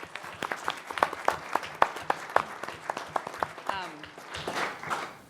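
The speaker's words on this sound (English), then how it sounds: "If we could please give him a round of applause." At a county board meeting, a room applauds a retiring sheriff's sergeant investigator with a modest round of distinct, rhythmic claps from a smallish group, with voices murmuring beneath and a brief spoken remark near the end.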